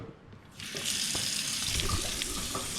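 Water comes on from a tap and runs steadily in a rushing hiss after a brief quiet start, close by in an indoor room.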